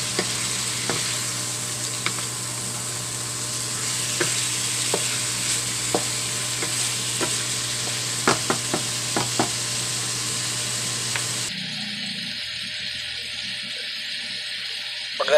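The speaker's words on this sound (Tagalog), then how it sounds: "Haluin na natin mga kaulam." Pork sinigang being stirred in a pot with a steady sizzling hiss and scattered clinks of a spoon against the metal, the noise cutting off abruptly near the end.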